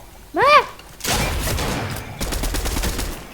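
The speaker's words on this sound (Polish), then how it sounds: "jest ta boom snajperka. Snajperka hukowa." A Boom Sniper Rifle fires in Fortnite, a sharp loud blast followed by a long rumbling boom and crackling echo, with players talking over the game sound.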